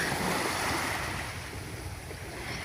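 Sea waves at low tide make a steady, full wash of surf mixed with wind rushing across the microphone, continuous and fairly loud throughout.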